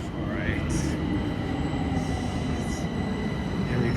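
A metro train pulls into a station in Bucharest, a loud steady rumble of wheels with squealing bursts and rail noise filling the platform.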